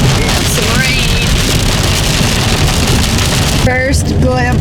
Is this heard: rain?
yes